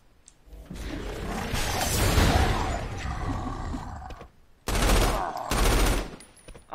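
Gunfire from shooting the warden in the video game Saints Row IV, a loud dense burst of rapid shots with roaring effects lasting several seconds, a short lull, then another heavy burst.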